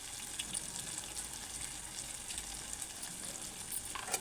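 Drumsticks fry in a pan with a continuous, faint hissing sizzle, steady and close throughout with no voices.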